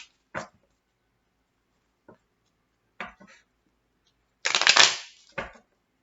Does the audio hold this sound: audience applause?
no